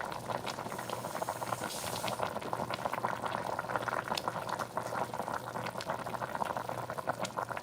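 Beef stew boils steadily in a pot, a continuous close bubbling and gurgling at a fairly soft level with no pauses and no voices.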